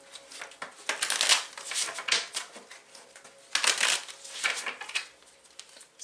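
Advice cards are shuffled close up in repeated bursts of rapid riffling and sliding, with brief pauses between rounds.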